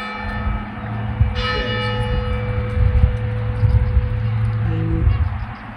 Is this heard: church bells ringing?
yes